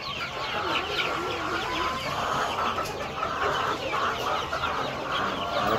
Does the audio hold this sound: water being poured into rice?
no